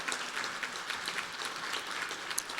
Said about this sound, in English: want to thank Jeff Tollefson, if we can give him a round of applause as CEO.